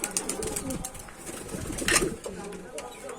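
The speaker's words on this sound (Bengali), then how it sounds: "ফাইনালি দেখি যে আমি আসার আগেই কবুতর আসছে" Racing pigeons back from a race settle at a loft, cooing and shuffling nearby with a brief burst of wing flapping, while a person talks over them.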